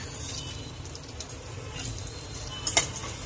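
Panch phoron spices (fennel, coriander and fenugreek) splutter in hot oil for kadhi, making a dense, continuous close-up sizzle sprinkled with small crackles and a few sharper pops near the end.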